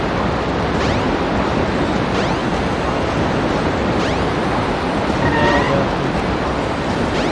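Steady rushing water of a waterfall in the video game Sonic Adventure DX, a continuous broadband roar at constant loudness with faint game tones layered over it.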